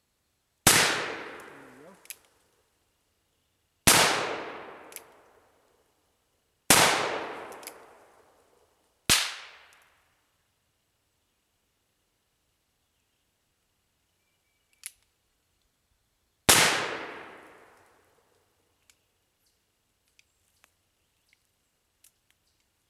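A Leach and Rigdon revolver fired outdoors: four loud, sharp shots spaced a few seconds apart, each with a long decaying echo. Another report follows later, with faint clicks between shots and a brief spoken comment.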